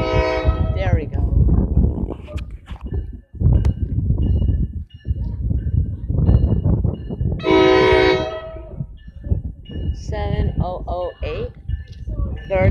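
An NJ Transit train horn blares in a long harmonic blast around the middle at Raritan, with rumbling rail noise and people talking over the scene.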